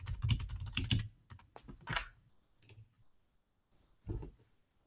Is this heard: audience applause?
no